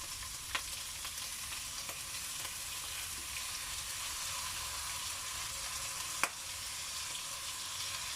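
Meat and alamang shrimp paste fry in a pan with a steady, even sizzle that runs throughout, plus a couple of faint utensil taps.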